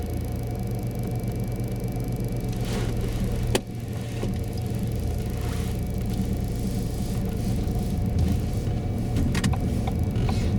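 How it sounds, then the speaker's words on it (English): A car moving off during a driving lesson, its engine rumbling low and steady from inside the cabin, with one brief click partway through and no talking. "So when you're ready, Tony, if you'd like to move off"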